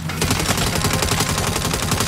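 Rapid, continuous turret gunfire in Saints Row, a loud, close, steady mechanical stream of shots lasting about two seconds with no voices over it.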